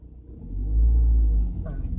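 A low engine rumble swells as traffic starts moving again nearby, with a bus present, deep motor noise building and easing.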